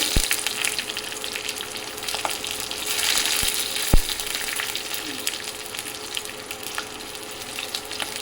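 Four green chilies dropped into hot oil for a soybean pakora curry sizzle and crackle steadily and fairly loudly, with a few sharp pops along the way.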